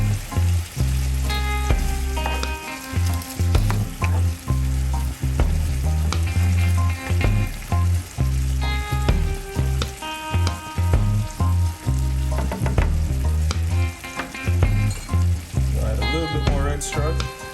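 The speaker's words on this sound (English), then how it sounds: "Now we're gonna let this simmer for a little bit." Scotch bonnet sauce simmering in a pan as a bed for salmon, a steady close sizzle and bubbling with clinks and stirring knocks of utensils throughout.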